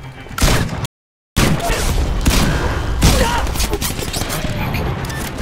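Gunfire in the video game Titanfall, including shotgun blasts: dense, loud bursts of shots and booms that are nearly continuous, broken by one short silent gap. No one speaks.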